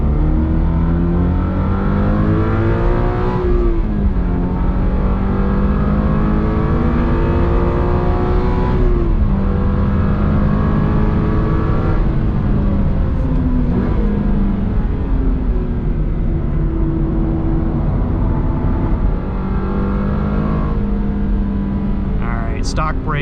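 Subaru BRZ (2022) engine revving hard during a drag race against a BMW 230i, heard from inside the car as repeated rising pitch sweeps through gear changes, loud and continuous with a voice speaking over it.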